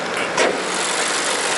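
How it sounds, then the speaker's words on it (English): A 2019 Honda Civic Si's 1.5-liter direct-injection four-cylinder idles with the hood open, a steady close mechanical whir with faint injector ticking and one brief louder burst. "The direct injection, you'll always hear that tick because it's a much higher pressure fuel injection."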